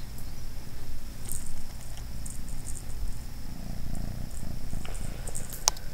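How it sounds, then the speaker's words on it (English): A domestic cat purrs close to the microphone, a steady low rhythmic rumble that continues throughout, with faint light rustles and a small tick near the end and no talk. "Chester, you're a little purr machine"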